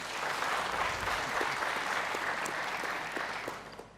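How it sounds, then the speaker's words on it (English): Audience applause at a televised political debate, steady broadband clapping from a large crowd that holds for about four seconds and then tapers off at the end. "Once again, a round of applause for Mr. Kariara."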